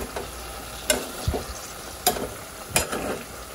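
Chicken adobo with large cut pieces being stirred in a sizzling pan, a few distinct scraping clacks of a utensil over a steady close frying hiss, no voices.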